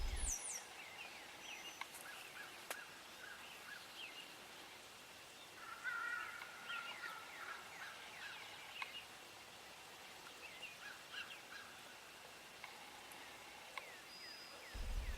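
Wild turkeys gobble out in an open field in Illinois, several birds calling in faint, scattered bursts from a distance over a soft, steady outdoor hiss.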